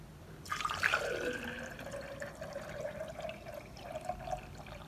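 Watery polishing paste slurry is poured off from a container, giving a close splashing gush that settles into a steady trickle and dribble for several seconds.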